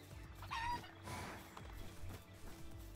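A chicken in the video game Palworld clucks and squawks in short repeated bursts over a low steady game soundscape, fairly faint and with no speech over it.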